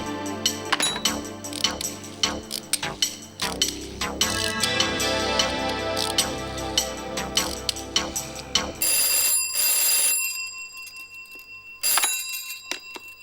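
A telephone rings during a Tamil TV serial scene, a repeated bright electronic ring pattern over music, with pauses between bursts, loud and close.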